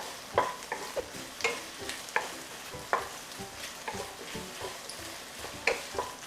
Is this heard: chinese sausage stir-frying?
yes